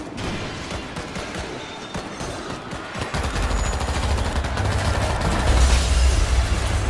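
Gunfire in the 2019 zombie shooter World War Z, with sharp shots crackling over a dense battle mix before heavier, continuous firing and low booms take over for the last few seconds.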